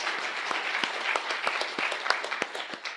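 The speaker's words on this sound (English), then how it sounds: "give her a round of applause" An audience at a conference claps in a brief, moderately dense burst, with individual sharp claps standing out close by and no talk over it.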